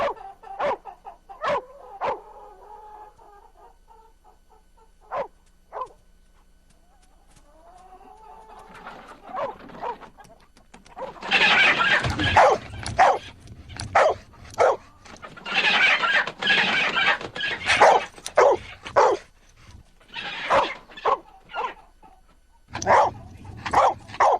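Dogs bark loudly and repeatedly near an enclosed chicken coop attached to a barn, with chickens clucking and squawking in agitated bursts; quieter scattered yelps come first, then the barking and clucking grow dense and frantic.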